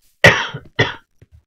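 Two quick, loud coughs up close, followed by a faint throaty sound.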